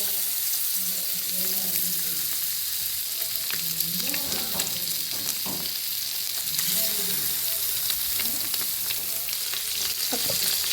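Masala-coated eggs fry in hot oil with a steady, loud, close sizzle and crackle that continues without a break throughout.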